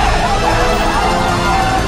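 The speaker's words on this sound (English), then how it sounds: "Suddenly, a speeding ambulance crashes into him." A loud ambulance siren wails continuously up close in a zombie-outbreak film scene, its rising and falling tone filling the moment with no talk over it.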